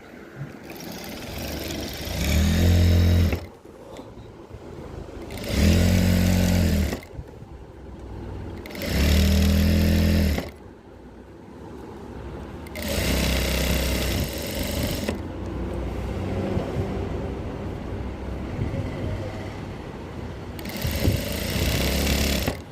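A sewing machine stitches a 1.5-inch pant hem in loud whirring runs of a few seconds each, about five bursts separated by quiet pauses, with no speech.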